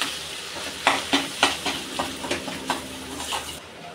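Spoon stirring turmeric and chili powder in a hot frying pan, a steady soft sizzle with a series of rhythmic scraping knocks, close and moderately loud, ending abruptly.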